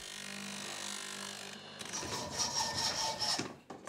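Carved bone pieces are smoothed and sanded by hand, a steady close rasping rub that shifts partway through into a brighter, rhythmic scraping with repeated strokes, no voices present.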